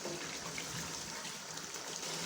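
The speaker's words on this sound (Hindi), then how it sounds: "1 कप मैं इसमें पानी ऐड कर रही हूँ" Water pours steadily into a pot of beef liver (kaleji) cooking in a yogurt masala at home, a continuous soft splashing trickle heard close up with no talking.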